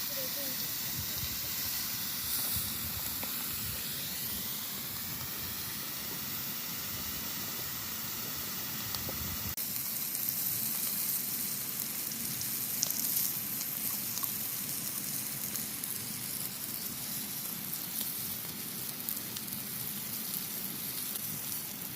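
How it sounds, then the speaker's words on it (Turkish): Meat sizzles on a hot marble slab as it is turned, making a loud, steady hiss and crackle that fills the whole stretch without letup. "Etlerimizi çevirerek pişiriyoruz."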